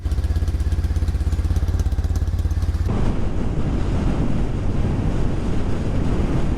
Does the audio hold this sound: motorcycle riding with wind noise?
yes